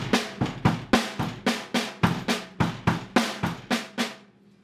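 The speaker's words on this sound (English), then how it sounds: "we're going to do right foot, left hand combinations with the kick drum and the snare drum." A paradiddle pattern played between kick drum and snare drum: about fifteen crisp, evenly spaced hits at a brisk steady pace, close and solo, ending with a short decay.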